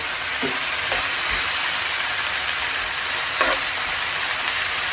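Tough cut of beef sears in a hot pan, a loud steady sizzle with a few brief scraping stirs, no talking.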